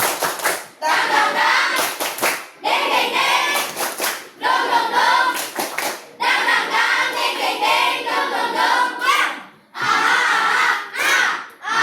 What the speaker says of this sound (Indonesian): Tepuk semangat baru.